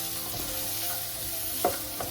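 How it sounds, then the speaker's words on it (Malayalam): Chopped onion sizzles gently in leftover oil for a paneer butter masala, giving a steady soft frying hiss with a couple of brief stirring scrapes near the end. "അതിലേക്ക് തന്നെ ഈ ബാക്കി വന്ന എണ്ണയിൽ നമ്മൾ ആദ്യം പറഞ്ഞില്ലേ കുനുകുനാ അരിഞ്ഞ് വെച്ച് ഉള്ളി ഇട്ട് കൊടുക്കാൻ"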